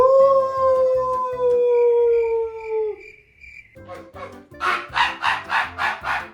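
A person imitates a dog howling with long, wavering tones that fall away, followed by a rapid series of rhythmic yelping barks.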